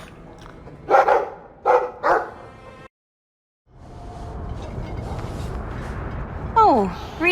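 A dog barks several times in quick bursts within the Dragon Age video game, mixed with game ambience and a short silence, followed by a higher whine or voice at the end; talk is present.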